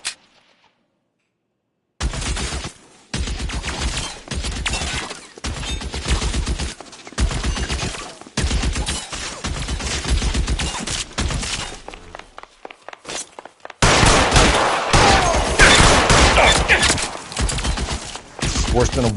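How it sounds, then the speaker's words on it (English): Dense bursts of gunfire in the video game L.A. Noire, loud rapid volleys broken by short gaps after an opening silence, swelling into a sustained heavy barrage with shattering, a voice speaking briefly amid the shots. "Lay down some covering fire"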